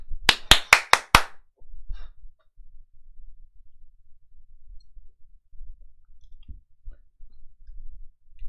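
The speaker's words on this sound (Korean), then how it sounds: "저를 위해서 박수 치겠습니다." A single person claps five quick, sharp, close claps in a row, then the room falls nearly silent apart from faint low rustling.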